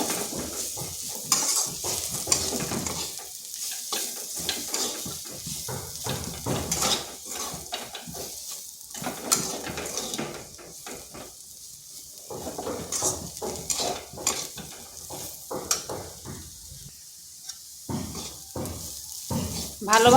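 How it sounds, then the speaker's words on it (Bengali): A spoon scrapes and stirs boiled potatoes with turmeric and chili powder in a sizzling pan, irregular clinks and scrapes over steady frying hiss, close and moderately loud. "হলুদ গুঁড়ো, আর সামান্য লঙ্কার গুঁড়ো। ঝালটা অবশ্যই আপনারা নিজেদের আন্দাজ করে দেবেন। একটু ভালোভাবে আলুগুলোর সাথে মিশিয়ে নিচ্ছি।"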